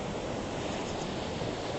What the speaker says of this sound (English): So many people taking pictures of the waves.